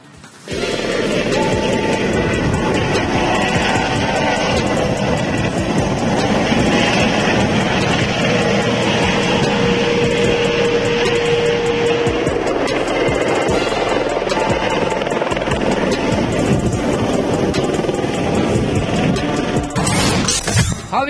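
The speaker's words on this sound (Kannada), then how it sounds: "ಜನರ ಖುಷಿ ಇಮ್ಮಡಿಗೊಳಿಸಿದ ಹೆಲಿಕಾಪ್ಟರ್ ರೈಡ್" A helicopter gives rides at the Hukkeri Mutt temple fair in Haveri, and its loud, continuous rotor and engine roar fills the whole stretch with a steady chopping drone.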